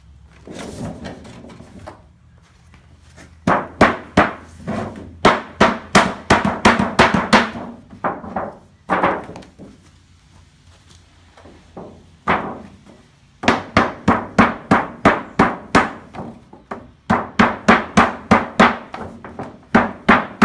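A hammer drives metal flashing down onto a wooden bee hive outer cover in several quick runs of sharp, evenly spaced blows, loud and close, with short pauses between runs.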